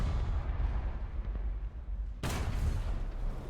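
A tank cannon in the War Thunder video game fires, a sudden loud boom cutting into a low rumbling background of engine noise, followed by a lingering rolling roar.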